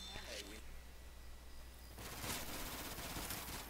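Modded Left 4 Dead 2 gameplay with explosive rounds fired in a rapid automatic burst, rattling bursts following a quieter stretch, with game sounds in the background.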